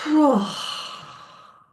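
A slow breath out through the mouth during a guided relaxation exercise starts with a soft voiced sigh and trails off into a long, airy exhale that fades gradually.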